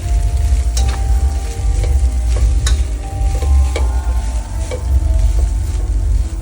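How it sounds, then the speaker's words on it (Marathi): Poha with sugar is stirred in a pan over the heat, with a steady sizzle underneath and repeated sharp scrapes and clinks of the spoon against the pan, close and alone. "आणि साखर टाकूया थोडी. आता मिक्स करूया."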